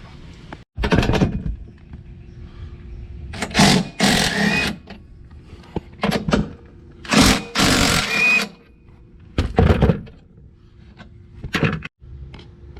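Nuts come off the seat of a Can-Am X3, heard as several separate short bursts of a power tool whirring, loud and close, with quiet gaps between them.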